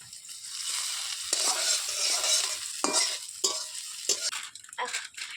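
Onions and chilli sizzle in a hot pan while a utensil scrapes and stirs in repeated strokes, loud and close, no voices.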